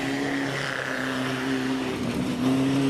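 A 2-litre Vauxhall races up the Prescott hill climb course, its engine a loud, sustained tone that shifts pitch as it accelerates and changes gear nearby.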